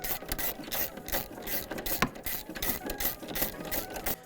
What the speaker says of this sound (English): we're going to get a 13mm socket,